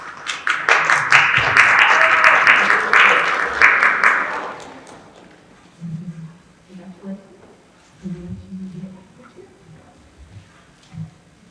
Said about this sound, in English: It's okay this time to clap for your person when they come up.